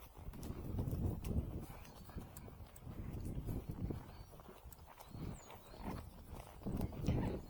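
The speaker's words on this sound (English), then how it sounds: "that's him setting off into canter" Horse cantering on grass, its hoofbeats a steady muffled drumming that runs throughout at close range, with some snorting breath and faint rustle mixed in.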